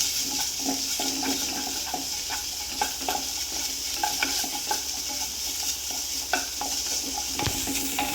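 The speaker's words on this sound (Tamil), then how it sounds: "சும்மா லைட் ஒரு ஃப்ரை பண்ணுங்க போதும்" Garlic lightly frying and being stirred in a pan while making kari dosa, a steady sizzle with a spoon scraping and tapping at irregular intervals, close and alone.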